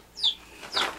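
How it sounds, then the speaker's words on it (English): Two quick, high-pitched peeps from baby chicks in a workshop sound close by against a quiet background. "So now I've got little baby chickens in my shop."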